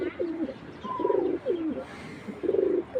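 A Giribaz pigeon in a cage coos close by in several repeated rolling phrases with short gaps between them, against a quiet background.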